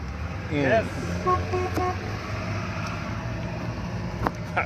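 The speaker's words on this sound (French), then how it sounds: "On se fait déjà klaxonner." A car horn honks in a few short toots amid steady road traffic noise, with a voice briefly speaking nearby.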